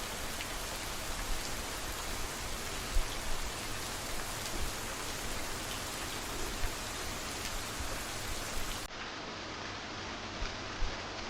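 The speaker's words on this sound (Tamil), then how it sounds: "அவர் சொன்ன மாதிரி மழை தூரிக்கிட்டே தான் இருக்கு" Steady drizzling rain from a movie scene, a soft continuous hiss of raindrops with a few slightly louder drop spikes, alone and without talk throughout.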